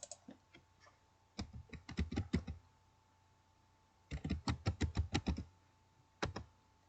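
Close, quiet computer keyboard typing comes in three separate bursts of quick, crisp key clicks with short pauses between them, over a faint steady hum.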